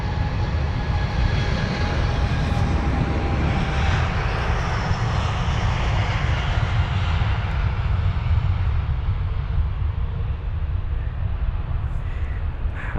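A British Airways jet accelerates down the Heathrow runway to take off, giving a loud, sustained, rumbling engine roar with a whining edge that continues unbroken and slowly shifts as the aircraft passes and climbs away.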